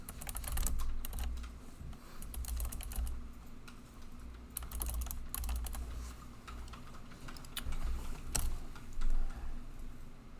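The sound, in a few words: typing code on a computer keyboard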